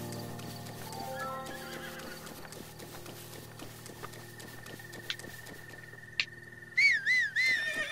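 A horse in the video game Breath of the Wild clip-clops steadily over game music, then gives a loud, wavering neigh near the end.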